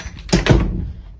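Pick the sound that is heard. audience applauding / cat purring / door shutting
door shutting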